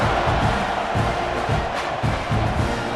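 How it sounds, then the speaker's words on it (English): Stadium crowd cheering at a college football game in the NCAA 26 video game, a dense, constant roar with rhythmic low thumps pulsing beneath it throughout. "this crowd is feeling themselves after that last drive"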